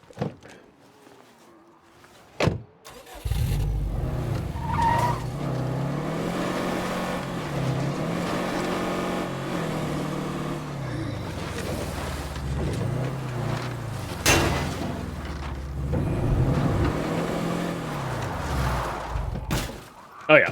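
Car engine droning steadily in State of Decay 2, revving up and down, with a sharp impact near the start and another partway through as the car drives into a building.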